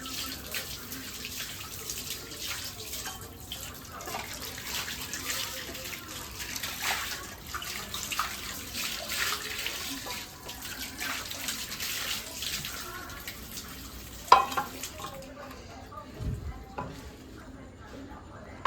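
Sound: pouring hot water

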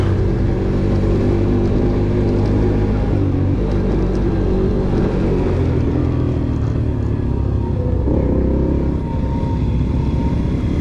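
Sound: Romet Pony moped engine revving

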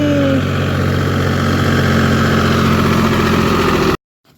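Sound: tractor engine running

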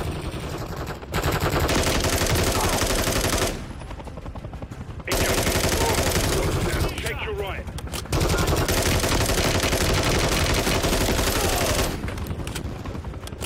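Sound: gunfire in video game Call of Duty Modern Warfare 3

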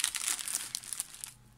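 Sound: plastic bags crinkling while being handled

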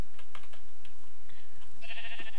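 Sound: sheep bleating in the video game Minecraft

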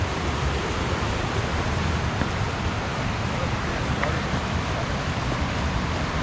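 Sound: mountain stream flowing through forest

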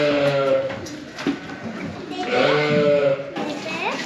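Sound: lambs and sheep bleating in a barn

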